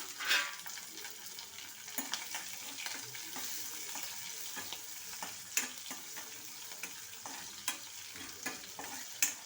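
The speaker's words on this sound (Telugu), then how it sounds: "అవి వేగుతూ ఉండగా ఈ జీడిపప్పు, పచ్చిమిరపకాయలు కూడా వేసేసుకోవాలి" Cashews and green chillies fry in a pan with steady sizzling and crackle, stirred now and then with sharp scraping clicks; close and fairly loud, with no talking.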